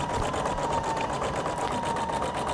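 A Husqvarna Viking Designer Brilliance 80 embroidery machine stitches at a steady fast rhythm, its needle mechanism whirring and tapping evenly, loud and close with no talking.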